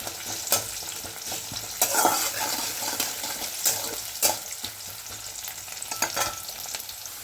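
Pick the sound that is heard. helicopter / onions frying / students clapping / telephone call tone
onions frying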